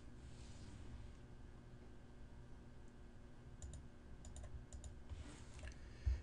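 A few quiet computer mouse clicks selecting spreadsheet columns, sharp isolated ticks in small clusters over a faint room hum, ending with a slightly louder thump.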